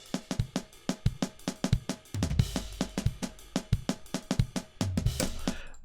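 A drum beat loop sped up in Logic, with rapid kick and snare hits at a fast tempo, playing alone and moderately loud, with a deep bass layer coming in partway through.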